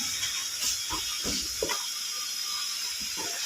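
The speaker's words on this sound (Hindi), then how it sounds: "इसमें हम पकौड़े फ्राई करेंगे।" Pakoras frying in hot oil in a kadai give a steady, bright hiss and sizzle, with a few soft bubbling pops near the start, close and moderately loud.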